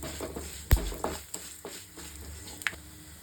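Ingredients for chicken kulambu are sautéed in a pan, with a soft, continuous sizzle under a few quick spoon scrapes and taps against the pan, close and fairly quiet.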